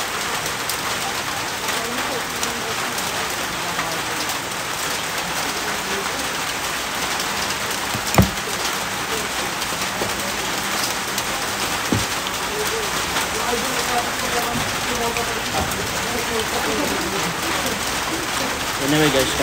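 Steady rain falls outdoors during a rainy-season food trip, a dense even hiss throughout with a couple of sharp knocks and light background activity.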